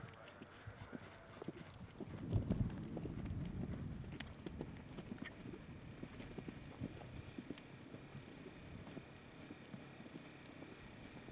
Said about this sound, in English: On course now and clear at the first, Desiree Bene and Stewart Little.